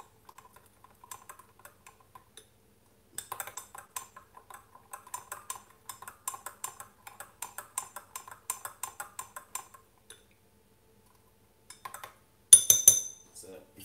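A spoon stirs homemade Jamaican hot pepper sauce, giving quiet, rhythmic clinks and scrapes in steady bursts, then a louder clatter near the end.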